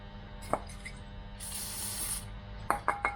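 Oil sprayed from an aerosol can onto brake caliper screws on a Toyota Celica MkVII 1.8 GT, a short steady hiss near the middle of the clip, with a few light clicks and taps before and after.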